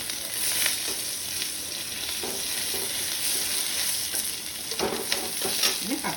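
Onion frying and being stirred in a pan with whole spices, a steady close sizzle with occasional scraping strokes of the spatula throughout.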